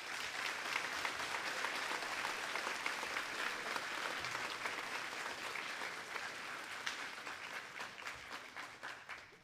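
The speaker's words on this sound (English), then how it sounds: "Can I please ask that you join me in giving all the teachers, staff, and parents that are here right now or who were unable to attend a round of applause." Applause from the audience at a Year 12 graduation ceremony, a dense sustained wash of clapping from many hands that keeps going at a steady level before slowly thinning toward the end.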